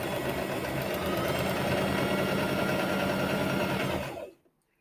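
A sewing machine runs steadily, back-stitching a seam joining fabric triangles for half-square triangle quilt blocks, a close, even mechanical whir with rapid needle rhythm that stops abruptly near the end.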